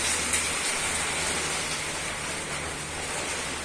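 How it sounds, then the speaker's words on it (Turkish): Dense, steady rushing noise like heavy rain and hail pelting a surface outside, constant and loud throughout without any voices. "Acayip fırtına var. Hatta dolu yağıyor galiba şu anda."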